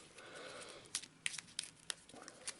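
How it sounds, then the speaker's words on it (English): A deck of Arkham Horror game cards shuffled at close range: a soft papery riffle followed by a series of quick crisp snaps and flicks, fairly quiet. "I'll give this deck one last shuffle"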